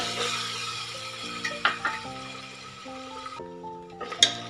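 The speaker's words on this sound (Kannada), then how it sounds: "ಎಲ್ಲವನ್ನು ಎಣ್ಣೆಯಲ್ಲಿ 1 ನಿಮಿಷ ಫ್ರೈ ಮಾಡ್ಕೊಳ್ಳೋಣ." Peas and onions frying in oil for a methi matar paneer pulao, with a low sizzle under steady tonal hum and a few sharp clinks of stirring in the pan.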